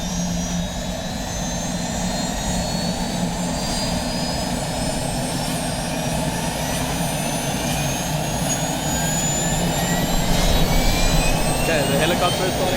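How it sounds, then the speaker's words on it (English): A helicopter on an anti-poaching rhino dehorning operation spins up, its turbine whine rising steadily in pitch over a loud continuous engine roar that swells near the end, with voices faintly underneath. "the helicopter is starting up"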